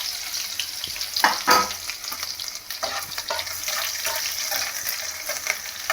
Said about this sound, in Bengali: এবার রসুন যেটা থেতো করা ছিল সেটা দিয়ে দিলাম।